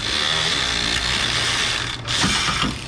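A socket wrench with a shorter socket ratchets rapidly on a seized nut and bolt of a Subaru Forester, loud and close, a steady stream of clicks that breaks briefly before starting again.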